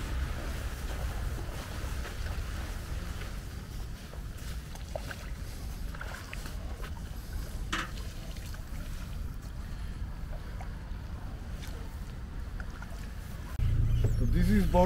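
A small boat crossing the river border from Portugal to Spain, with a steady engine drone and water wash heard up close over wind, and a louder surge of engine noise at the very end.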